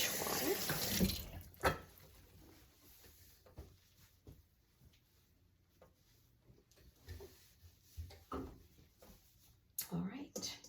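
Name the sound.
rinsing hands in dishwater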